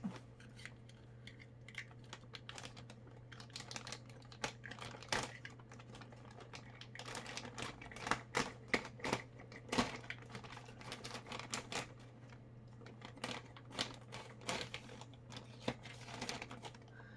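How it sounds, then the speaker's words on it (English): Plastic bags around a yarn haul from a wool shop being handled and opened indoors, giving bursts of close, irregular crinkling and rustling over a steady low hum, busiest in the middle stretch. "let's take the crinkling away totally so then it won't keep reoccurring"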